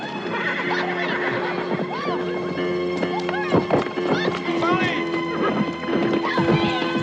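A horse neighs and whinnies loudly while hooves clatter and crash during horseback riding in the film Lone Wolf McQuade, with people shouting over a busy, chaotic scene.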